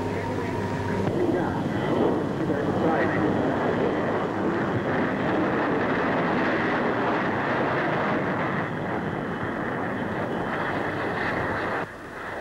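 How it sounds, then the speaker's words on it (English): A de Havilland 110 delta-wing jet flies at the 1952 Farnborough Air Show, heard as a loud, sustained roaring jet rumble with wind-like noise, steady throughout and fading slightly at the very end. "Here is the de Havilland 110."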